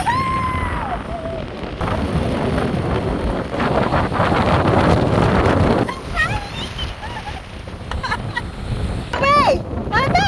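Strong wind on a beach roars and buffets the microphone without a break, mixed with the wash of the sea. Voices call out now and then over the gusts.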